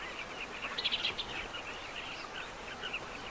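A colony of carmine bee-eaters on a Zambezi riverbank gives off faint, scattered chirping calls in short bursts over a steady, quiet outdoor background, with no one talking.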